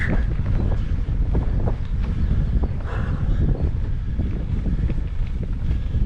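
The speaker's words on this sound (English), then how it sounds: "It's that little bit of a headwind just blowing me back a bit." Strong headwind buffets the microphone outdoors on the North York Moors, a loud, continuous low roar with gusting surges throughout and no voices.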